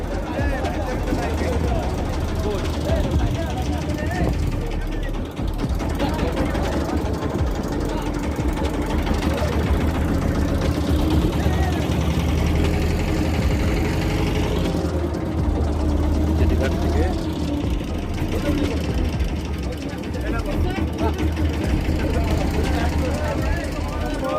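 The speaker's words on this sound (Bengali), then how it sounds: "আমরা ট্রলার এইমাত্র ছাড়লো" A trawler engine drones steadily as the boat leaves Saint Martin's Island for Chhera Dwip, with a constant low hum under people talking nearby throughout.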